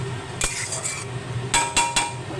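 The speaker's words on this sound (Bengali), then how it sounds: "এইভাবে ঢাকা চাপা দিয়ে আমার রান্নাটা হয়ে যাবে" A metal lid is set onto a cooking pot of fish head and rice, giving a few sharp metallic clanks and rattles close by, with a brief cluster at the start and a quick pair of knocks later.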